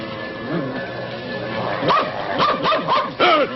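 A dog barks several times in quick yapping bursts, close and loud, with a whimpering tone.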